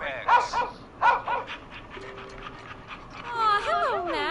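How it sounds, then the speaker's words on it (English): A dog in the video game Killer Frequency gives a few short barks and yips followed by panting and whimpering, close up, with a person's voice talking over it toward the end. "Max is my emotional support dog."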